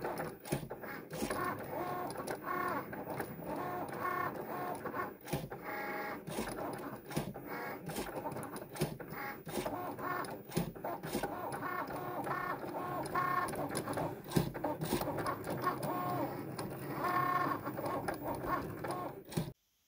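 An electronic cutting machine works through 175 gsm cardstock, giving a quiet, busy whir with rapid clicking carriage moves and short stops that go on steadily for about twenty seconds.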